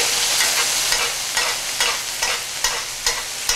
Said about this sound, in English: So the butter almost instantly browns.